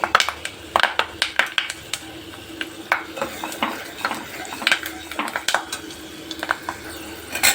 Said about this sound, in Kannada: ನೋಡಿ ಫ್ರೈ ಆಗ್ತೈತೆ ಕಡಲೆಬೇಳೆ ಮತ್ತು ಉದ್ದಿನ ಬೇರೆ